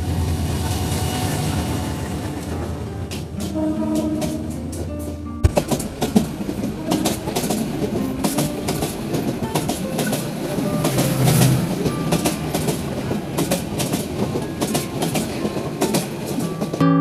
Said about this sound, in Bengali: ওই যে দেখতেছেন একটা ট্রেন আইতেছে